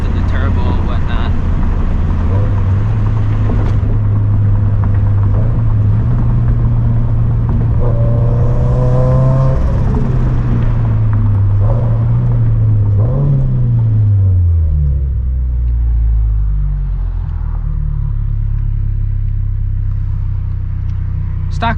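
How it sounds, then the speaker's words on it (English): Turbocharged FRS at night with windows partly down, its exhaust droning loud and steady as engine tone rises and falls through shifts, with a faint whine up high. "I'm gonna have the windows down a little bit so you guys kind of hear like the exhaust and the turbo and whatnot."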